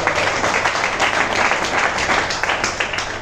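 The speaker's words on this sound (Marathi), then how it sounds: "MI लाईफस्टाईल साठी सुद्धा एकदा जोरदार टाळ्या झाल्या पाहिजे" Loud, sustained applause from a large seminar audience at an MI Lifestyle business event in Latur, a dense, steady crowd clapping that fills the whole stretch without pause.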